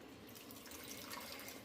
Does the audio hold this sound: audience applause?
no